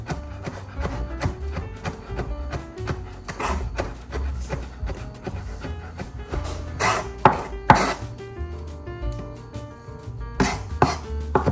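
Knife chopping garlic by hand on a board while making homemade pizza, a steady run of sharp close taps with a few louder knocks, alone without talk.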